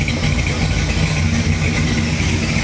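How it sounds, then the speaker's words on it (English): A 1957 Chevrolet Bel Air with a four-speed idles close by, its exhaust giving a steady, even low rumble that holds at one level without revving, with no voices over it. "Exhaust sounds excellent."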